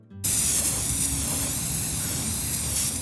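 A spray paint can sprays onto a Christmas tree collar, a loud steady hiss up close that starts abruptly and holds continuously without talk.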